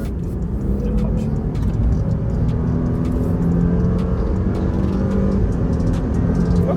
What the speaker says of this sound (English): I'm just gonna punch it on the highway